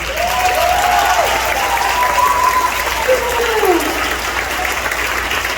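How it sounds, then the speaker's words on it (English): Audience applause at a Christian school award ceremony for fifth-grade and junior-high students, steady dense clapping filling the room with voices calling over it. "Yes, now you can clap for them"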